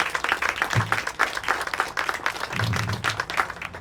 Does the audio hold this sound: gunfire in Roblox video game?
no